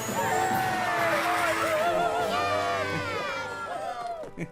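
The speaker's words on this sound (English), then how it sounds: "Wow, what's with this crowd?" A cartoon crowd of ponies cheers in a loud, continuous wave of high voices and squeals, with shouts rising over the din and fading at the end.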